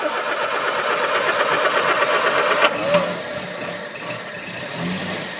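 A Hillman Avenger engine, first start after 24 years, cranks with a fast, steady whir, then briefly catches with a cough and settles into an uneven, sputtering rumble from fuel starvation.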